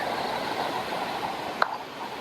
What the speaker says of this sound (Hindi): पानी का व्यू और आवाज, बीच से बर्फ जमी हुई है